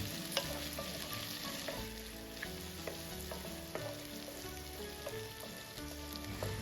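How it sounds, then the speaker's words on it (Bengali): Ginger-garlic paste sautéing in a pan for a curd-based rohu curry gives a steady, close sizzle and fry, with spatula scrapes and stirring clinks spread through it; no one speaks. "তারপর এটিকে 5 থেকে 7 মিনিটের মতো ভালো করে কষিয়ে নিন"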